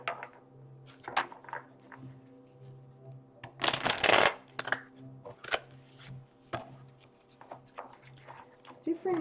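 A deck of tarot cards is shuffled in repeated soft riffling bursts, with one louder, longer flurry near the middle, while a voice murmurs quietly underneath.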